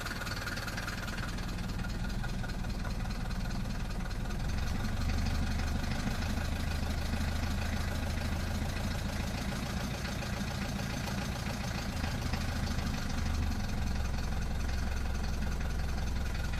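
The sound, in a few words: Mercedes W115 220 Diesel 1972 engine idling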